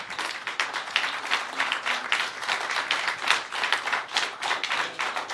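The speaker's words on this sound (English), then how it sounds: "We should give you a round of applause." An audience at a fine art talk claps in dense, steady applause that holds at an even level for several seconds.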